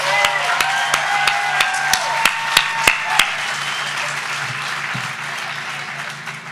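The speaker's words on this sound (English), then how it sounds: "Let's give these strong, resilient young people a round of applause." A graduation audience at the Brooklyn School for Math and Research in 2022 breaks into loud applause, with a string of sharp, evenly spaced claps over the crowd for a few seconds before the clapping thins and fades.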